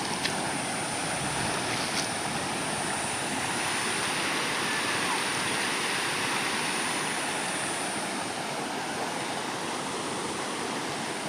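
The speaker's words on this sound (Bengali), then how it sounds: "ইতিমধ্যেই দেখতে পাচ্ছেন জল বাড়ছে।" Tidal bore surging up a river, a steady, loud rush of flowing and churning water that continues unbroken throughout, with no voices.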